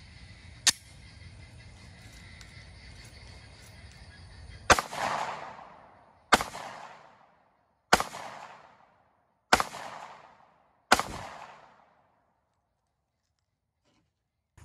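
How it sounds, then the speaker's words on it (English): A Glock 43 pistol fires 9mm +P Winchester USA Ready 124 grain hollow-point rounds from 10 feet. Five sharp, loud shots come at an even pace about 1.5 seconds apart, each ringing briefly, after a faint earlier click. "Third set of 5 shots is going to be from the Glock 43 at 10 feet."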